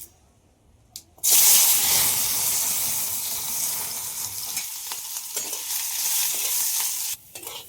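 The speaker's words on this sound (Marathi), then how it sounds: "तर आता टाकून घेऊ आपण हे कापलेले आलू. भडका होते." Sliced potatoes drop into hot groundnut oil for a gawar-batata dish, bursting into a loud, steady sizzle that holds for several seconds and then cuts off abruptly near the end.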